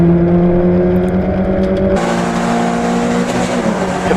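Stock hatchback race cars at Donington Park roar loudly and close, with a sustained engine whine that shifts abruptly in pitch midway as a car passes and another takes over.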